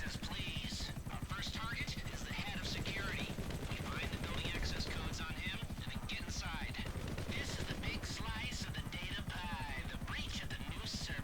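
Machine gun fire in GTA 5, dense rapid bursts running continuously with helicopter-like rumble and game noise underneath, loud and busy throughout.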